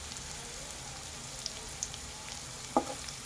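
Chopped onions with salt, bay leaf and cumin frying in a pan for a restaurant-style mushroom masala, giving a soft steady sizzle with one brief clink near the end.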